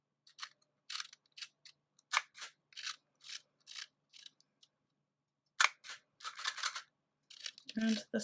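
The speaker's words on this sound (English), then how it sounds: "And the scissors." Sharp, close snips of scissors cutting washi tape for a handmade Christmas card, a dozen or so crisp cuts in irregular bursts separated by short silences, with a faint rustle near the end.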